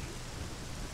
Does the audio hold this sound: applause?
no